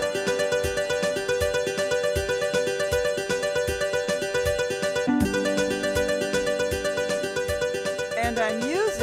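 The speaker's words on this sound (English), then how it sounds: "And I'm using a 12-string guitar, which is sound number 116." A keyboard's 12-string guitar preset, sound number 116, plays a steady strummed accompaniment pattern with bright, rhythmic chords repeating evenly throughout, shifting to a new chord partway through.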